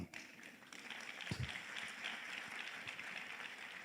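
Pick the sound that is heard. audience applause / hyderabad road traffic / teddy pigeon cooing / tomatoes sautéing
audience applause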